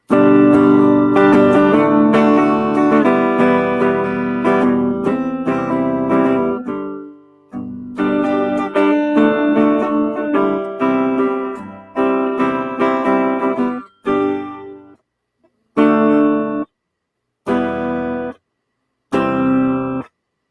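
Electric guitar strums chords continuously, then breaks into short stabbed bursts separated by silences toward the end.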